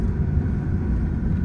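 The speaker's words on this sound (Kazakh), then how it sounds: "Мында машина келет." A low engine rumble hums steadily at moderate volume, like a vehicle motoring along nearby, with no voices over it.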